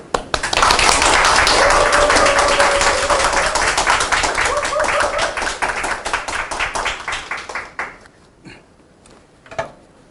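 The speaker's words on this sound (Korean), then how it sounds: "그 자리에서 같이 박수를 치셔야 되고" Audience applause greeting a speaker at a 2020 volunteer webinar on post-COVID and the Korean New Deal, a dense burst of clapping that starts suddenly, holds loud for several seconds, then thins into scattered claps and fades.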